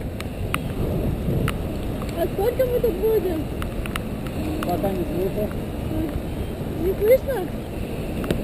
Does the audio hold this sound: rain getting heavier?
yes